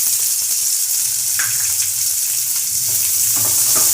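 Green chilies and chopped onions frying in oil, heard up close as a loud, constant hissing sizzle with faint stirring scrapes running underneath.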